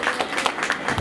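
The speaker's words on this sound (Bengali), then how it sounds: "সকলে একটু হাততালি দেবেন।" An audience at a blood-donation and cultural competition prize ceremony gives a short burst of scattered applause, moderately close, with overlapping claps filling the moment.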